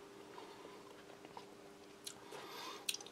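Someone bites and chews a light, dry cracker from a US military MRE, eaten with a Mexican-style chicken stew. Quiet, close crunches come in scattered bursts, sharpest near the end, over a faint steady hum.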